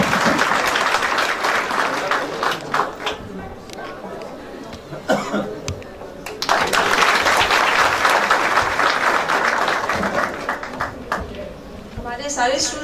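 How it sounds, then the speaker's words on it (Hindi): Audience applause at a university award ceremony, bursts of clapping that rise and fall across the hall with coughs and murmured chatter mixed in, fairly close and loud throughout. "तो आपकी तालियों में मैम सदफ।"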